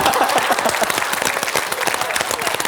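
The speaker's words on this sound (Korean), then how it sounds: "박수 한번 주세요." Studio audience at a Korean television show bursts into steady, loud applause with dense clapping from many hands, continuous across the short stretch.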